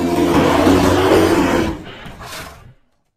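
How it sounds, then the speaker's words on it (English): A bear roars once up close, a loud, rough, growling bellow lasting about two seconds that fades into a breathy tail. "bear,"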